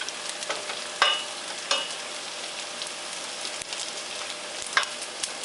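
Sweet anchovies fry in about three tablespoons of oil while being stirred, giving a steady close sizzle broken by a few scraping stirs of the pan, with no talking.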